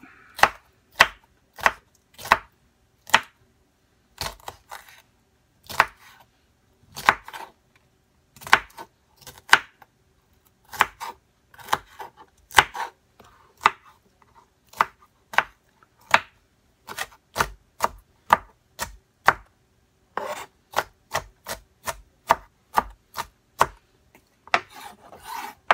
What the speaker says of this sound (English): Just chop it, dice it.